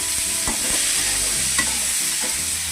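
Chutney ingredients including tomatoes fry in a pan, a steady close sizzle with a few scraping stirs of a spoon, loud and continuous with no voices.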